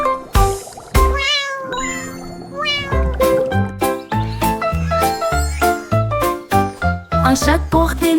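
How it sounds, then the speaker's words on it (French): A cat meows repeatedly over bright jingling, tinkling music, the meows loud and close, woven into a busy melodic backing. "Puis il laissa échapper un miaulement."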